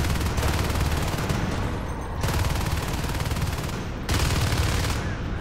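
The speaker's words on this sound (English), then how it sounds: "they're just content to shoot straight at that hive" Marines in Natural Selection 2 firing steadily at an alien hive, a dense continuous rattle of automatic gunfire with bursts briefly easing and resuming, loud and close throughout.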